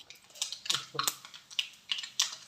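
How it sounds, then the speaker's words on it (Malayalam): Mustard seeds pop in hot coconut oil in a small kadai, giving quick, irregular crackles and sharp pops at close range across the whole stretch, with no talking. "കടുക് പൊട്ടിയിട്ടുണ്ട്."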